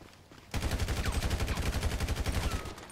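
Rapid automatic gunfire in GTA Online, a dense, loud burst of repeated shots starting abruptly and rattling on steadily to the end without pause.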